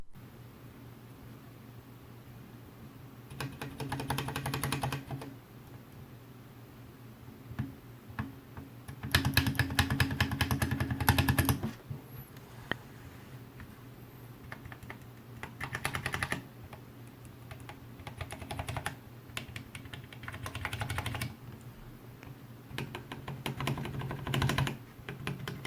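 Keys clatter on a Vortex Vibe, a 60% aluminum-case mechanical keyboard with numpad, in several bursts of rapid, even typing separated by brief pauses, close and clear with no talking.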